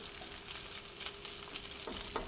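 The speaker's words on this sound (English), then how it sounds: "leave it for a bit until it really starts to fry up" Chicken fried rice made with Costco rotisserie chicken sizzles in oil in a pan, a soft steady crackle with scattered pops and a couple of faint scrapes, quiet and without talk.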